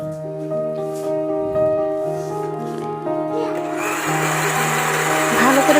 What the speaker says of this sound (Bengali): ভালো করে ব্লেন্ড করে নিব যতক্ষণ না একটা ডিমের ফোম তৈরি হয়